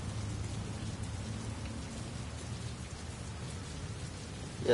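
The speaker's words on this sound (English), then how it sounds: "Yeah, that's rain." Steady rain falls in the video game Heavy Rain, a dense, even hiss of drops that runs throughout without any talk, ending on a brief louder burst.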